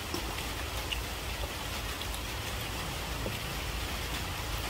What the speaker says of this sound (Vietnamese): Mà chắc mưa dầm luôn quá.